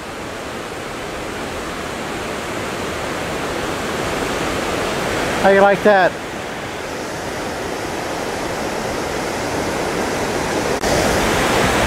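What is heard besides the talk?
waterfalls across the Snake River, Idaho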